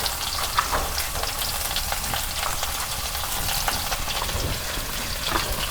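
A steady, loud sizzle of fish curry frying with salt, turmeric and chili powder in a pan, dense hiss throughout with occasional scraping from a stirring utensil.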